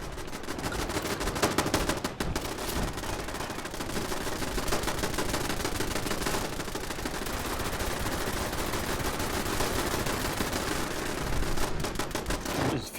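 Automated turrets in the video game Fallout 76 fire at a legendary enemy, a dense, continuous rapid gunfire that stays loud and unbroken throughout, with no voices.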